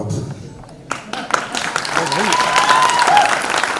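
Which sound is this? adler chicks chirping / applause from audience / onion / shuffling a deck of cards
applause from audience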